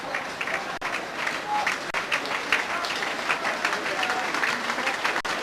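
A football crowd at a 1997/98 Plymouth Argyle v Fulham match applauds steadily as the Argyle players leave the pitch, with sustained clapping that fills the stadium throughout.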